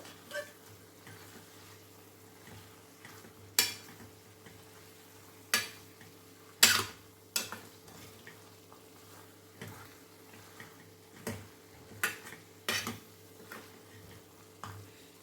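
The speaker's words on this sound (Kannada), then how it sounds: "ಇದನ್ನು ಕೂಡ ನಾವು ಚೆನ್ನಾಗಿ ಮಿಕ್ಸ್ ಮಾಡ್ಕೋಬೇಕು" A spoon stirs grated coconut and cumin powder into chicken sukkha in a pan, giving irregular scraping knocks every second or two over a low steady hum, with no talking.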